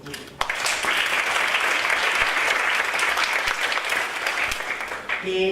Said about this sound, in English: An applause for them here